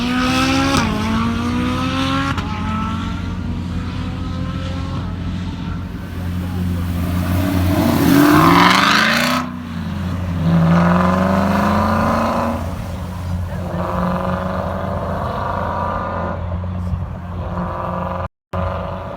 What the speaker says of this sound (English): a 458 is now getting on the runway